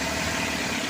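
A freshly overhauled Isuzu C240 diesel engine runs at a fast, high idle just after starting, a steady near, loud mechanical drone with no speech.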